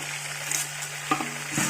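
Onions softening in a pan with cinnamon and cloves for a Hyderabad layer chicken biryani, a quiet steady sizzle with a couple of light metal clinks from stirring, no talking.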